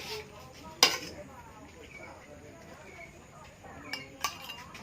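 Metal spoon scooping food from a pot at a rainy-evening home meal, with a sharp clink near the start and a few lighter clinks later, over faint background murmur and talk.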